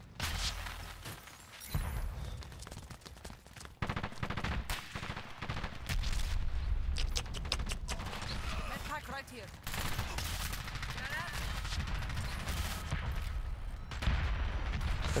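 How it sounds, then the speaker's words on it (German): Airstrike explosions and rapid gunfire in the online shooter Dirty Bomb, with dense bursts and booms continuing throughout at moderate level, while a player talks intermittently over the action. "ein Airstrike"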